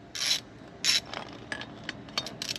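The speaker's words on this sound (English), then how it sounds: "you're gonna loosen all of these 14 millimeter bolts" A ratchet wrench loosens 14 mm exhaust pipe bolts on a Kawasaki, sounding as short, close bursts of sharp clicking separated by brief gaps.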